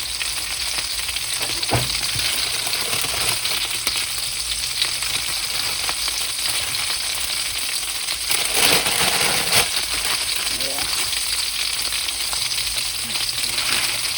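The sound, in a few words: chicken tenders frying in a pan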